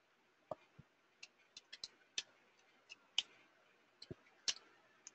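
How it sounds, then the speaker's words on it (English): Typing on a keyboard, a sparse irregular run of quiet, close key clicks and taps with short pauses between them, alone in near silence. "I'm just typing it in for people who can hear"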